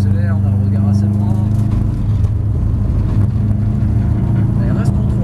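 Subaru Group A rally car with a 400 hp engine accelerating, a loud steady engine drone heard from onboard with a strong low hum, and someone talking over it throughout.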